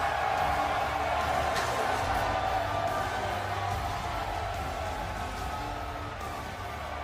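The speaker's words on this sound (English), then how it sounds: "And the crowd are on their feet." An esports arena crowd at an Overwatch League 2020 match between San Francisco Shock and Dallas Fuel gives off a steady, loud roar of cheering that slowly fades a little over several seconds.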